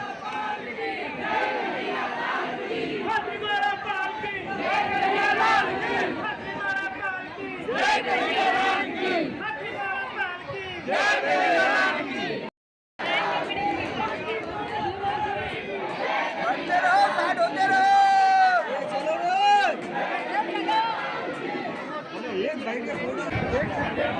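Dense crowd of devotees at Dwarkadhish Temple in Virar, with continuous overlapping chatter and calls filling the space, close and lively, with a brief cut midway.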